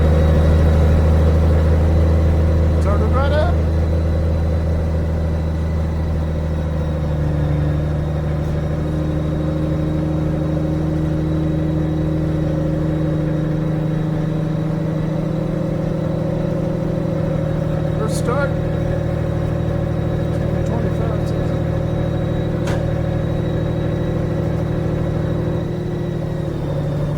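Honda Valkyrie motorcycle engine idling just after starting, a steady low throbbing rumble that stays even and close throughout, with a few faint clicks and brief sounds over it.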